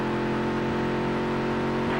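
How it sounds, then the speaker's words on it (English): Race car in a dirt-to-asphalt racing career-mode video game, a loud continuous engine drone with squealing tires under strain, with no talking. "You hear those tires just screaming."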